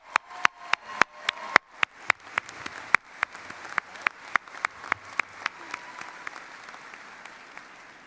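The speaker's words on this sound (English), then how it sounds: "I want to give Danny another round of applause" Steady, separate handclaps from a commencement ceremony audience, about twenty crisp claps at an even pace, thinning toward the end over a soft room background.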